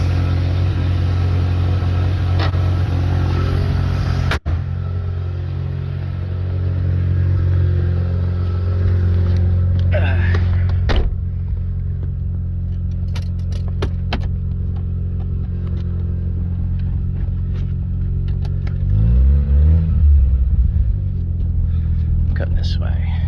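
A 1989 Mazda RX7 Turbo II idling with a steady low rotary-engine rumble, then a few revs and knocks as it is handled, with soft whispered talk over it.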